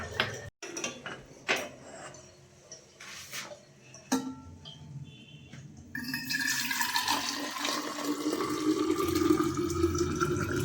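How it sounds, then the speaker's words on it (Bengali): Water pours into a container from about six seconds on, a steady rising rush after scattered kitchen clatter; hot water with some cold water mixed in, during coffee making at home. "এর মধ্যে একটুখানি ঠান্ডা জল মেশাবো ব্যাস তাহলে এইটুকু গরম জলে অনেকটাই ভরেছে"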